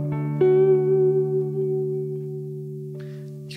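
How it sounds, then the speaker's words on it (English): A sustained electric guitar chord rings out with a long, spacious 80s-style hall reverb tail, a second note entering near the end. "the reverb I've been using was the hall reverb, sort of like an 80s inspired hall reverb."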